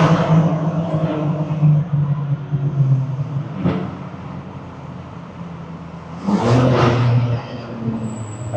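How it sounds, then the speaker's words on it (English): Exhaust of a BMW M4 driving through a tunnel, a steady engine drone with a short sharp burst near the middle and a louder rising surge toward the end, fairly close. "But now let's hear the exhaust."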